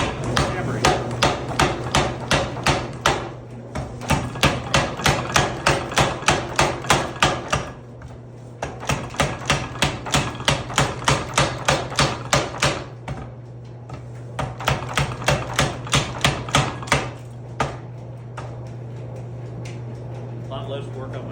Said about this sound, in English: I go to a 50-pound hammer, belt driven by an electric motor.